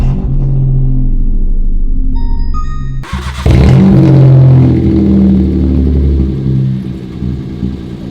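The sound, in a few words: Citroen C1 engine starting with loud straight-piped exhaust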